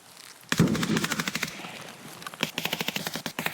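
Automatic gunfire in the video game Escape From Tarkov, one long burst and then further rapid bursts of sharp repeated shots, loud and close, with no talk over it.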